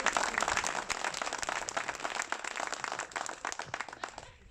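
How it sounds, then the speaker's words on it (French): Crowd applause at a political rally in Machecoul, a dense wash of clapping that carries on steadily and then tapers off toward the end. "Vous pouvez l'applaudir lui aussi une nouvelle fois."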